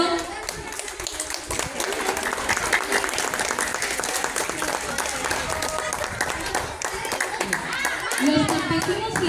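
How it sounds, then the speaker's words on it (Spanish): Applause for first- and second-grade students at a primary school event, brisk crowd clapping with distinct sharp hand claps standing out, steady throughout with some voices underneath. "Un aplauso para los alumnos de primer y segundo grado."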